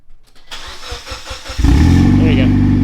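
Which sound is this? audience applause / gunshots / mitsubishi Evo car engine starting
mitsubishi Evo car engine starting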